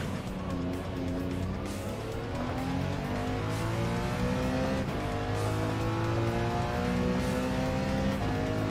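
Race car engine in Gran Turismo 7 on a sim rig with wheel, revving high and bouncing off the rev limiter in a steady buzzing drone with rising and falling pitch, loud and continuous.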